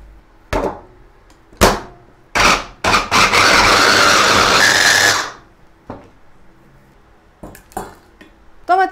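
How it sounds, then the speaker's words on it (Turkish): An electric food chopper purees tomatoes in a few short, sharp bursts, then one sustained whirring run of about two seconds before stopping. It sounds close and loud, with no talking. "Şimdi domateslerimi önce bir doğrayıcıyla püre haline getireceğim."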